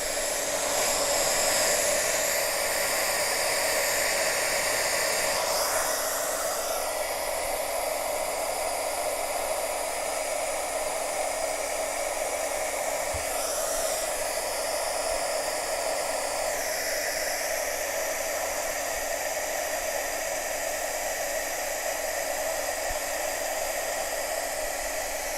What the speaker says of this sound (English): let's heat this one up and see how it turns out